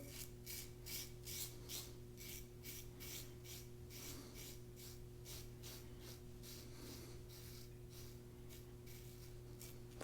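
Dovo Primo straight razor scraping through stubble, a steady run of short rasping strokes repeating at a brisk even rhythm, close and fairly quiet over a low constant hum.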